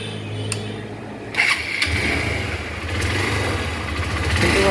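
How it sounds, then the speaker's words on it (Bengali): A rebuilt Hero Impulse 150 motorcycle engine with a new gear pinion, clutch plates and block kit cranks and catches about a second in, then runs at a steady, close idle with no talking. "তো এবার আপনাদেরকে সাউন্ডটা শোনাবো গাড়িটা স্টার্ট করে।"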